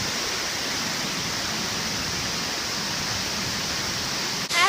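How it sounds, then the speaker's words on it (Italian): A waterfall roars steadily at close range, its dense rushing water filling the whole clip as an unbroken wash of noise, with a faint disturbance near the end. "c'è abbastanza rumore d'acqua"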